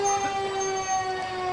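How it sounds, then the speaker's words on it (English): North River Fire District's new E11 fire truck sounds its siren at a Manatee County Veterans Day event, a loud, steady wailing tone with rich harmonics, close by, alone without voices. "you can hear the sirens of the North River Fire E11, the newest truck on call"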